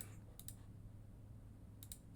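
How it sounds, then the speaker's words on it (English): Faint computer clicks sound in two quick pairs, a second or so apart, over a steady low electrical hum in a quiet room. "Oh, you hear my clicking?"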